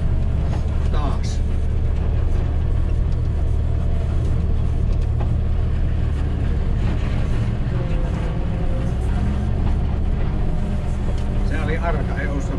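Cars drive past on a snowy road in a steady low rumble of tyres and engines that swells and fades, with people talking quietly now and then.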